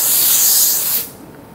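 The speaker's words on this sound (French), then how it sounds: "de vapeur directe peut vous servir pour un défroissage vertical" A Laurastar steam generator releases a direct jet of steam for vertical garment steaming, a steady loud hiss that cuts off abruptly, leaving a faint residual hiss.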